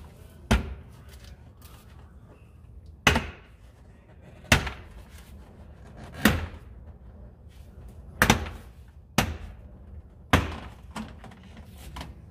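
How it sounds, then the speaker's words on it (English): Plastic door panel clips pop out of a car door one after another, seven sharp distinct snaps spaced a second or two apart, close and loud against quiet handling noise. "you'll start hearing it pop. That'll be the clips pulling out of the door that are attached to the actual panel itself"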